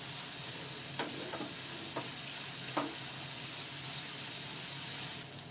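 Finely chopped onion sautés in a pan over a medium gas flame, giving a soft, even sizzle. A few scattered light scrapes and clicks of stirring sound through, and no voices are present.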